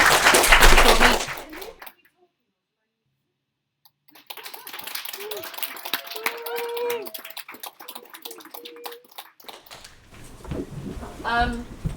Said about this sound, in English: can we give her a massive round of applause, Lucy Hobbs?